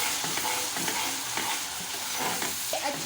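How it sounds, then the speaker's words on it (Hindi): Turmeric, salt, crushed green coriander and spices fry and get stirred in a pan for an arvi (taro root) curry, giving a steady close sizzle with soft scraping stir strokes throughout. "अब इसको हम फ्राई करेंगे"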